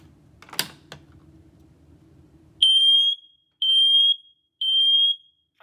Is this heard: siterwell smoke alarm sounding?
yes